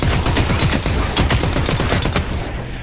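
Rapid automatic gunfire in the sci-fi shooter The Cycle: Frontier, a loud, close, continuous burst of quick shots lasting about two seconds before trailing off.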